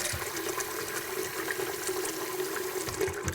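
Water runs steadily into a cooking pot holding rice for rice pudding with raisins, a continuous close gushing fill with no voices over it.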